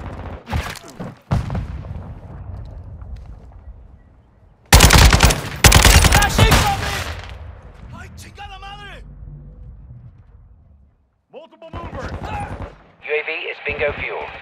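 Video game gunfire in a Call of Duty: Modern Warfare II team deathmatch, with several sharp automatic bursts and one heavy, dense volley, then quieter stretches with radio voices and effects.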